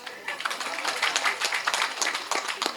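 An audience claps at a Tamil film music and trailer launch event, heard as quick, scattered hand claps that come across faint and somewhat distant throughout.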